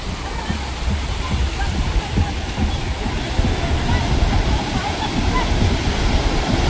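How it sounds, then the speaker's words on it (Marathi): Sea waves breaking on a beach form a loud, continuous roar of surf that stays steady throughout, close by, with faint voices mixed in under the wash. "आणि खूप लाटा आहेत"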